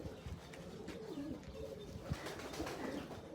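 Pigeons, one with reversed feet, coo faintly at a distance after rain, with several low rising-and-falling calls over steady background noise.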